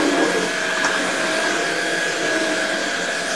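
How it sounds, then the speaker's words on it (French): A Jimmy PW11 Pro Max running in vacuum mode gives a loud, continuous motor whine with a steady tonal hum, close and unbroken for the whole stretch with no talking. "vous voyez, il est en fonction aspirateur. Donc, il va venir tout simplement aspirer."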